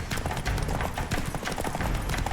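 Horse hooves gallop fast in The Witcher 3 during a chase, a steady, close, loud clip-clop rhythm running throughout with dense game sound around it.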